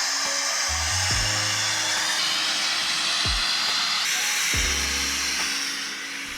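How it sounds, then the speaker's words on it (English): Steam vents from the side valves of a miniature steam train engine at a miniature train park, a loud continuous hiss with a few low tonal blasts and pulses layered over it. "they're gonna open the valves on the side to let out the remaining steam"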